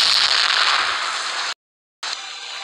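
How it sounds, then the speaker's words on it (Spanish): Bombs thrown and exploding in a video game make a dense, loud crackling roar that cuts to silence briefly, then resumes with a steady fizzing burst. "Y aquí tiramos bombas"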